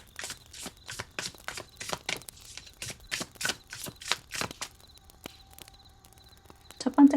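An oracle card deck being shuffled and drawn up close: a run of crisp, rhythmic card slaps and riffles, then quieter sliding and a final snap as a card is pulled.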